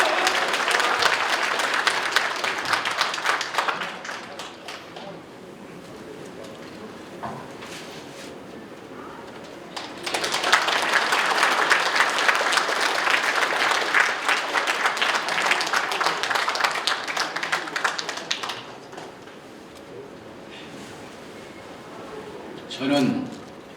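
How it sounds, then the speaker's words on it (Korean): A crowd at a political gathering breaks into loud, sustained applause for a Buddhist monk taking the stage, with two long bursts of clapping separated by a quieter stretch and a trailing tail at the end. "큰 박수로 맞이해 주십시오."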